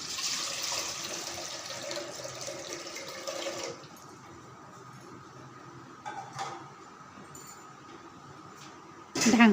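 Water poured into a cooking pot on a gas stove while preparing mahua greens: a soft steady splashing pour for a few seconds, then quiet kitchen sounds with a brief clink near the end.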